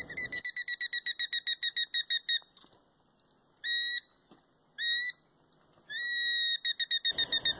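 A leaf played as an instrument imitates birdsong in rapid trilling bursts, then short piercing whistles and a long held note before the trill returns, close and clear with no talking.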